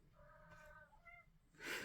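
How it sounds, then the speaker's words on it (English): A pet cat meows softly a couple of times indoors, faint drawn-out cries with a short pause between, followed by a brief breathy rustle at the end. "my cat is being silly"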